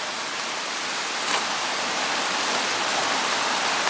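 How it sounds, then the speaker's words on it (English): Rain falls steadily outdoors at a wild camp under a lavvu suspension shelter, a dense even hiss close around with a faint tap near the start and no talking. "I'm quite chuffed the rain has come down."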